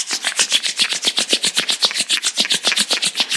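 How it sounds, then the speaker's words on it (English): Palms rubbed briskly against each other during a meditation session, a fast, even rhythm of loud, close swishing strokes with no pauses, heard alone. "let's generate some energy between our hands by rubbing our palms against each other"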